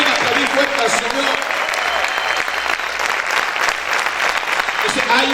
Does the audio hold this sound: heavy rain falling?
no